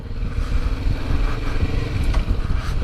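A 2020 Kawasaki Vulcan 650S motorcycle engine rumbles steadily and loudly up close during a test ride, a continuous low drone without speech.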